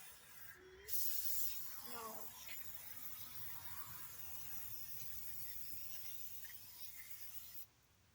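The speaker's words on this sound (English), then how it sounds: "Now, grab some brake clean. I'm just going to clean my calipers." Brake cleaner sprayed onto the front brake calipers of a Jeep Gladiator, a steady close aerosol hiss lasting several seconds that starts with a louder burst and cuts off abruptly, with a brief squeak early on.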